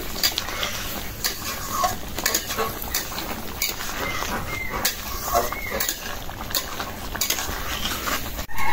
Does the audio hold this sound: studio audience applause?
no